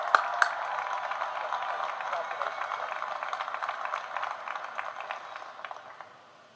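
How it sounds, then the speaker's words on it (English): Graduation audience applauding for graduate Devon Williams at a 2025 commencement ceremony, a steady wash of clapping from a large crowd that holds for several seconds and then fades out. "Give him a round of applause."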